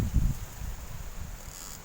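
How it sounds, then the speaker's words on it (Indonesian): Strong, stormy wind blows during a fishing outing, buffeting the microphone with low rumbling gusts, heaviest at the start and easing into a softer steady whoosh. "Oh, anginnya kencang"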